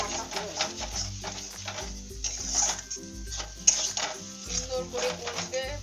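Poppy seed katla fish curry being stirred and fried in a pan, with steady scraping of a spatula against metal, soft sizzling and occasional clinks of utensils throughout, close and moderately quiet.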